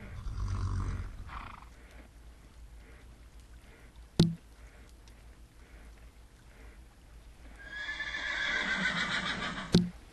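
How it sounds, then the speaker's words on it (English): Horses in the Second Life video game neigh loudly, with a whinny at the start and another near the end, plus snorting and clopping between, alongside a soft running waterfall. "And there's some horses here."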